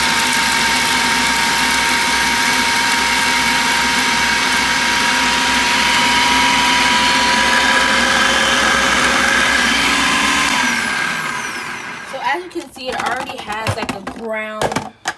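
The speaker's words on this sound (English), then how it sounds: "Now we're gonna go ahead and secure the processor, close it. And we're gonna go ahead and pulse on low." Food processor pulsing mushrooms on low whirs with a steady, loud motor tone for about ten seconds, then stops, followed by clattering and handling noises.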